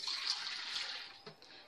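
Hot tap water runs steadily into a kitchen sink, a close, continuous splashing hiss that cuts off after about a second and a half, leaving a few faint knocks.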